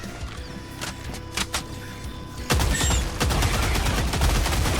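Adjudicator rifle fire in the video game Helldivers 2, a rapid run of close, loud shots breaking out after a stretch of quieter battle sounds and scattered distant bursts.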